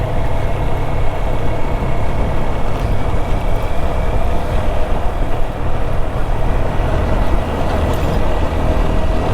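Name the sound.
motorbike engine straining uphill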